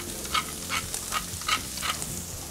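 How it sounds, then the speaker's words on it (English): Beetroot and apple sautéing in a pan give off a soft, steady sizzle, with several brief stirring scrapes spaced irregularly, close and fairly quiet, no voices. "I'm gonna add the beetroot and the apple. Give that a slight saute."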